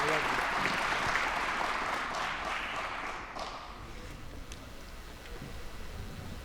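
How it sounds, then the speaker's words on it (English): Applause at the Lancaster Archery Classic youth female recurve finals: crowd clapping fills the opening seconds, then fades away into quieter room ambience with light taps and thuds. "Let's give Waxahachie Archery Club a big round of applause."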